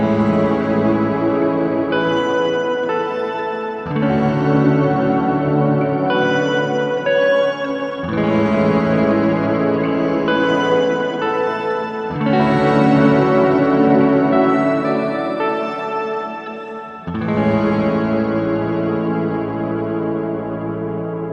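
Electric guitar played through a Walrus Audio Fathom Kamakura Series reverb pedal, strummed chords washing into wide, long-decaying ambient reverb, with several sustained swells in succession and no talking.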